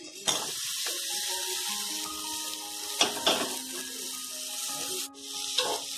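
Chicken pieces dropped into a pan already holding coriander and black pepper pastes for chicken bharta, sizzling steadily with a few sharp clatters and splashes as the pieces go in.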